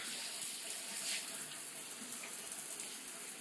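Running tap water pours steadily into a basin as feet are rinsed, a continuous close hiss and splash with no pauses.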